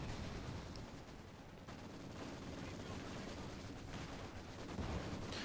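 Artillery fire in Company of Heroes 2 rolls on as a constant, fairly faint rumble of distant blasts and crackling gunfire, with a couple of sharper hits standing out from the din.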